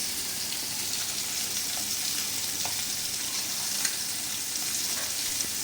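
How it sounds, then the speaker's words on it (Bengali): Puti fish frying in hot oil as a mother cooks them, a steady close sizzle with faint crackles and pops running throughout. "এই পুঁটি মাছগুলো আমার খুব পছন্দ, তো এগুলো আম্মু ভেজে দিচ্ছে"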